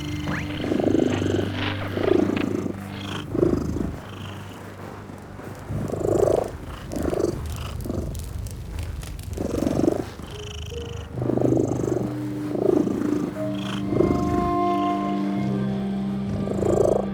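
A cat in the video game The Midnight Walk purrs in a deep, rhythmic rumble, each breath pulsing about once a second, close and steady with a faint tonal background beneath.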